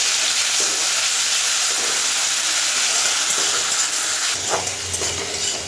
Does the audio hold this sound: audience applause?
no